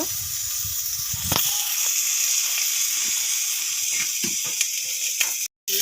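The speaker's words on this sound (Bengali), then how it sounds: "আমি প্রথমে পাঙ্কাশ মাছের চর্বিটা দিয়ে এখান থেকে তেলগুলা বের করে নিব" Pangas fish fat renders its oil in a wok on a stove, producing a dense, steady hiss dotted with sharp crackles and clicks, close and fairly loud, with a brief dropout near the end.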